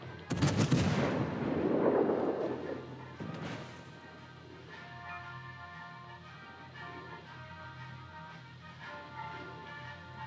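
Naval guns fire in World of Warships: Legends, a loud close salvo blast with a crashing, rumbling decay, then quieter game sounds and faint tonal effects.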